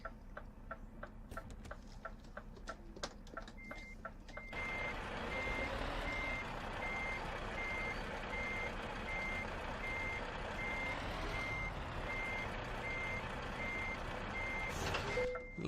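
A truck reversing to couple a trailer in Euro Truck Simulator 2, with steady evenly spaced reversing beeps over a low engine rumble, then louder engine drone with an intermittent repeating beep and a brief hiss near the end.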